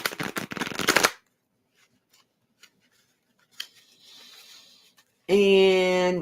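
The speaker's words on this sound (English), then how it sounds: "I'm gonna shuffle these babies up." A deck of playing cards is shuffled up close in a quiet indoor setting, with brisk riffling bursts at the start and end separated by near silence and faint handling.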